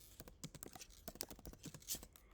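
Typing on a computer keyboard in a word processor: a quick, irregular run of sharp key clicks and taps over about two seconds, close and fairly quiet, with no talking.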